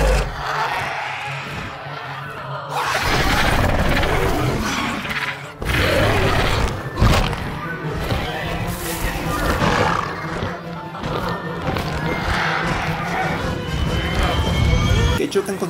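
A roaring, crashing creature scene from Jurassic World, with the Indominus dinosaur breaking into an aviary under gunfire and releasing pteranodons: loud sustained roars and heavy smashing impacts layered under speech throughout.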